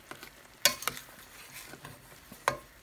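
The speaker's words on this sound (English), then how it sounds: "so that I can scrape up all the goodies from the bottom of the pan" Meatloaf drippings get scraped and stirred across the bottom of a sizzling skillet, with a soft frying hiss under several sharp utensil scrapes and clicks at an uneven pace, close and fairly quiet.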